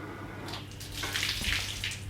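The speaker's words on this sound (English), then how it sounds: "Spread this water out evenly on the slab." Water splashing and being swept across a freshly sawn chestnut slab at a sawmill, a soft, close wet swishing with a few louder splashes and a low machine hum underneath.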